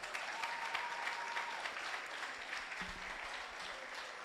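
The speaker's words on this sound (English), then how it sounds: "Clap them again." Audience clapping at a regional annual certification ceremony, a steady, moderately distant patter of many hands that holds evenly for several seconds with a faint voice briefly underneath.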